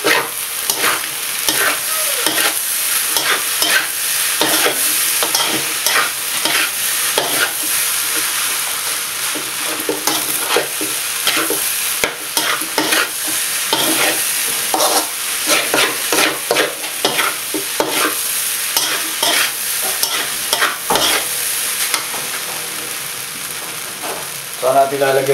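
Seafood fried rice sizzles and crackles in a hot pan while a spatula stirs and scrapes it in quick, repeated strokes, loud and close and continuous, with a voice briefly talking over it.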